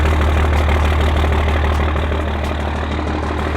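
A 900HP Cummins diesel in a five-speed shorty truck idles steadily and loudly up close, with a deep, continuous low rumble and no breaks or voices.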